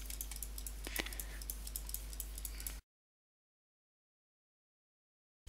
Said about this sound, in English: I'll start out with just clicking a lot randomly while moving my mouse around